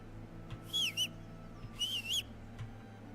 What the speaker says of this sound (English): X is whistle.